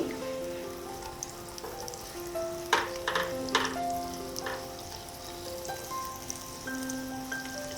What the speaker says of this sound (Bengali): রসুনটাকে হালকা একটু ভেজে নিচ্ছি।